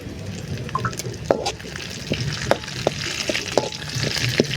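Whole spices and curry leaves sizzle and crackle in hot oil in a pan as they are stirred for a village-style pepper chicken gravy, with steady frying hiss broken by sharp pops and scraping ladle strokes.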